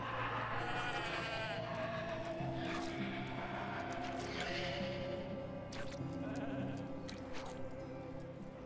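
A video game graveyard rings with a chorus of goats bleating, steady and overlapping throughout, set against a droning ambient background.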